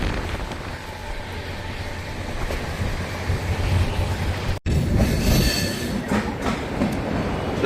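A train rolls through a railway station in Rajasthan, its wheels rumbling and clacking steadily with squeals, close and loud, briefly cutting out for an instant midway before continuing.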